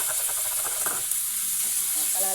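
Tomatoes hit a pan of sautéed garlic and onion, a bright steady sizzle and hiss with stirring scrapes, under faint background talk.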